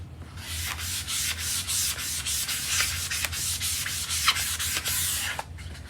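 A cloth or pad scrubs chalk residue off a stencil surface in quick repeated strokes, a close, dry rubbing swish that stays steady throughout.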